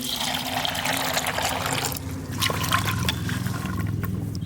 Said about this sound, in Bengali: ধুয়ে নেব মটরশুঁটিটা। জল